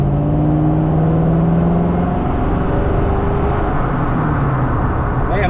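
Ford F100 pickup with a swapped Crown Victoria V8, sitting low with tires rubbing, drones steadily as it accelerates, engine tones rising through the gears under continuous road and wind noise.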